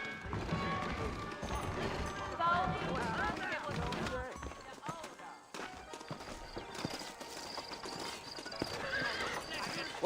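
Saddled horses clip-clop and whinny in the Red Dead Redemption western game, hooves beating steadily up close, mixed with game music and ambience while characters talk over them.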